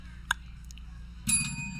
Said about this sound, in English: Got my bell fixed.